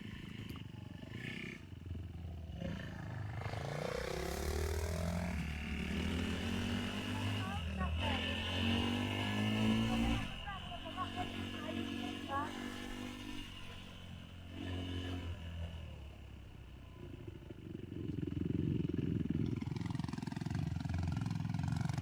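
A motorcycle on a green lane revs in sharp blips while turning round, the engine rising and falling under rough rumbling and bursts of louder throttle, with voices talking over it.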